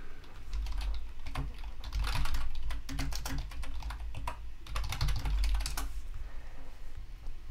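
Typing a pip3 command on a Mac keyboard: close, quick bursts of key clicks in uneven clusters with short pauses between them.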